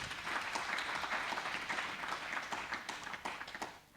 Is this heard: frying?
no